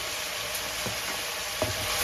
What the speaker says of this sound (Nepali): फेरि एकछिन यसलाई राम्रोसँगले भुट्नुपर्छ।